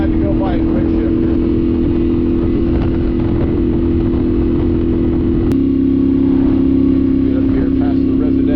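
A 2024 Yamaha Tenere 700 motorcycle being ridden, its engine droning loud and steady under heavy wind rush; the engine note shifts partway through, as with a gear change.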